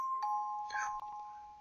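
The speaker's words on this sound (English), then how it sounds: "I'm ringing the doorbell." A doorbell chimes inside the VRChat video game, a sustained steady electronic tone carrying through the whole short moment, with faint muffled voice-like sounds layered around the middle.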